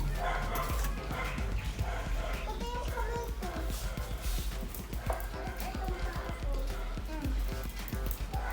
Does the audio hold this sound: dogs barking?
yes